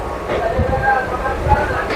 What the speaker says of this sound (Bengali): ট্রেন একেবারে ঠিক টাইমে ছেড়ে দিল।